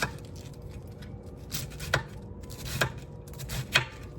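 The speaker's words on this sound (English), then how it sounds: "So we're just gonna thinly slice this" A knife thinly slices cabbage on a board, giving about four crisp close cuts at a loose, unhurried rhythm over a quiet background.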